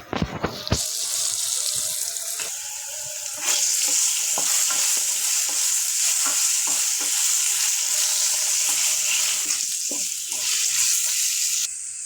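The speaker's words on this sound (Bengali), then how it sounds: "আলু ভাজা লাল লাল করে ভাজা হয়ে গেছে" Potatoes frying in a pan, a bright steady sizzle broken by repeated scraping and clattering stirs, close and loud, lasting throughout with no talk.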